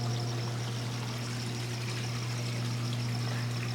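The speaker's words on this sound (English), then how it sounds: "You're gonna hear my spa running in the background." A backyard spa runs with a steady, fairly quiet rush of moving, pouring water over a low pump hum. The sound is continuous and unchanging, with no voices.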